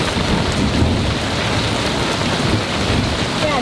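Severe thunderstorm with heavy rain, lightning, hail and rolling thunder during a power outage: a dense, loud, steady roar of rain with deep rumbling thunder underneath throughout.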